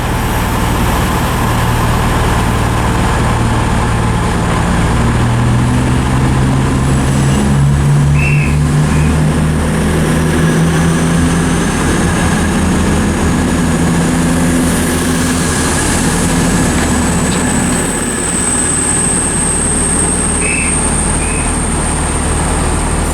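A Cross-country Class 220 diesel unit, 220 003, running at Bristol Parkway station, a loud continuous engine drone with rising and falling tones as it passes close by, no talking.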